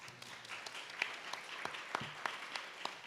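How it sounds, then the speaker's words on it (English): A small audience at a graduate orientation gives a brief round of applause for the staff and faculty, with light, scattered clapping and a few sharper individual claps. "Let's give them a round of applause."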